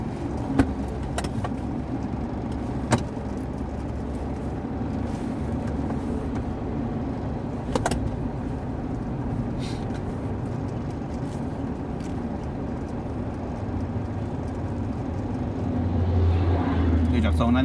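A new automatic X Series car is driven at a steady pace, its engine and road noise forming a low, continuous hum with a few light clicks and rattles and a slight rise toward the end, while people talk over it.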